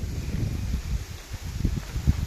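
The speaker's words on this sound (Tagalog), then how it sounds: "Kasi sobrang lamig, mahangin sobra" Strong wind buffets the microphone in low, uneven rumbling gusts, with a faint rustle underneath and no voices.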